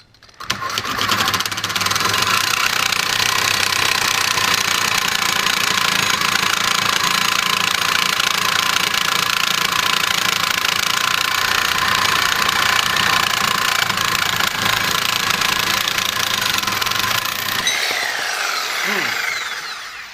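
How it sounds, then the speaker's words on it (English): A reciprocating saw fitted with a Diablo carbide-tipped blade cuts through 3/4 inch steel, a loud, continuous harsh buzzing grind held steadily for about seventeen seconds before stopping abruptly. "This is the new Carbide cutting edge carbide tipped blade from Diablo. We've seen it cut wood and nails in wood, and now let's just see what it does with this 3/4 inch steel."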